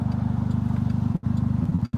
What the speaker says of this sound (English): Sounds like a sports car is probably why Dom, who sold Love Hello the car, did not fix the muffler.